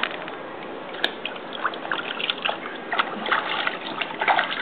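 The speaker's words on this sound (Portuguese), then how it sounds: "Bate na água assim, ó." A seven-month-old baby splashes water in a swimming pool, with irregular close slaps and trickles running continuously.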